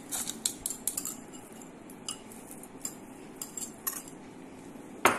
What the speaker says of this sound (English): Now, it's mixing time. Add oil and jaggery.